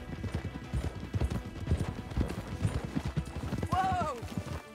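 Horse hooves clip-clop steadily in Red Dead Redemption 2, a continuous rhythmic trot close by under dialogue, followed near the end by a horse's whinny.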